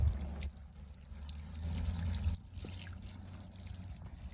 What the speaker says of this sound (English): So I'm going to add some water here.